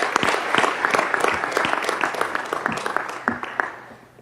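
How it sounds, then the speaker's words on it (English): Sustained applause from an audience at a school board of education meeting honoring retiring staff, many hands clapping densely and steadily throughout, fairly loud and close, easing slightly toward the end. "So we can just give them a round of applause as well."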